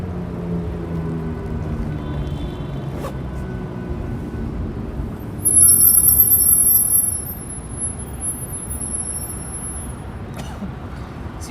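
Brakes squeal on a car in downtown San Diego street traffic, a loud high-pitched whine that swells for about two seconds over the steady rumble of passing vehicles, with fainter squeaks before and after.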